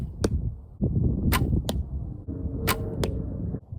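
Arrows are shot from a bow during archery practice: several sharp twangs and whooshes, each ending in a crisp impact snap, repeated in quick succession and close by.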